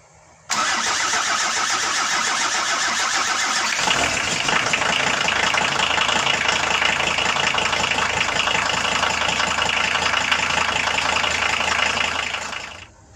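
A 2.4-litre diesel engine in a Volkswagen T4 cranks and catches after injector replacement, then settles into a steady, loud rumbling idle that runs for several seconds before cutting off.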